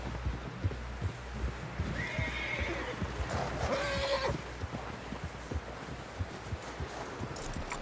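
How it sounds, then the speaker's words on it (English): A horse in the Red Dead Redemption video game neighs with a rising whinny in the middle, over a steady clip-clop of hooves and a low game ambience, with no talking. "Someone help John down off this horse."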